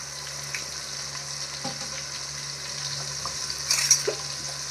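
Ginger, garlic and green chili paste frying in a pan gives a steady soft sizzle, heard close and alone, with light stirring scrapes and a brief louder hiss toward the end.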